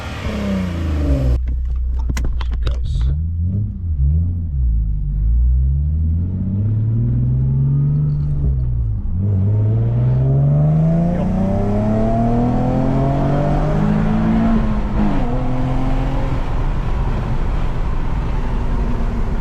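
A Nissan 370Z sports car pulls hard at Baywest, its engine loud and close. It climbs through the revs, drops on each gearchange and climbs again in several long, rising sweeps with no talk over it.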